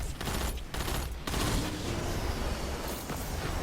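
A Telesto fusion rifle fires in Destiny 2, sending dense bursts of crackling, booming shots and impacts that nearly fill the span, with only brief gaps, loud and close.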